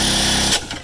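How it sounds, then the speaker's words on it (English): A 20 volt cordless drill fitted with a 9/16 socket spins a Harbor Freight generator's flywheel, giving a steady, close, high-pitched whir that cuts off abruptly just over halfway through the short burst. "I just got my 9/16 socket and hooked onto my 20 volt drill"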